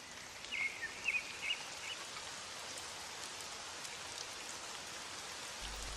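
Steady rain falls as a dense, even hiss throughout, with a few faint bird chirps near the start; no talking.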